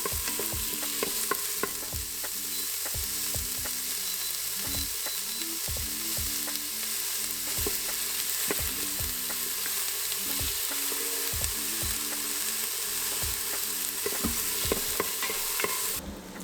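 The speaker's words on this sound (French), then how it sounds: "j'ajoute un petit peu d'huile d'olive et ensuite j'y plonge les oignons. Je fais sauter le tout pendant 4 minutes à feu moyen." Chopped onions sauté in olive oil in a pan over medium heat, a continuous close sizzle broken by frequent rhythmic scrapes of stirring.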